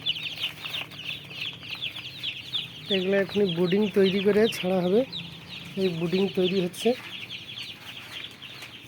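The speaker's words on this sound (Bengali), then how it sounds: "মোট 100 পিস দেশি মুরগির বাচ্চা নিয়ে আসা হয়েছে।" Constant high-pitched peeping of about a hundred native chicks in baskets fills the background while someone talks over it in the middle.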